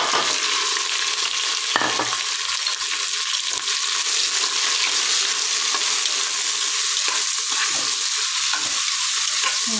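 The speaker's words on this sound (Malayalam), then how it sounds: "ഇതിലേക്ക് നമുക്ക് സവാള ഇട്ട് കൊടുക്കാം, സവാളയും തക്കാളിയും." Onions and tomatoes frying for a chicken curry, with a steady sizzle in the pan and scraping stirs heard up close throughout, with no talk.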